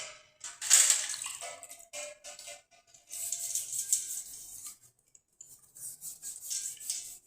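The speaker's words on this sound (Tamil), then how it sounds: "இப்போ நான் இந்த தண்ணியில் போட்டு வச்சுருவேன்." Pooja idols being placed into water to soak after cleaning, giving intermittent close splashes and watery rubbing bursts separated by short pauses, with no talk.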